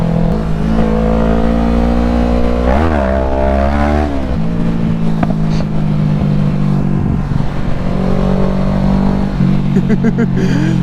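A motorcycle engine with a deep, throaty tone idles close by, swells through a couple of quick revs and then settles back to a steady rumble.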